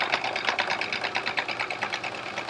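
A sewing machine hums and stitches at a steady rapid pace with a Westalee decorative thread ruler foot, the close mechanical chatter continuing evenly throughout.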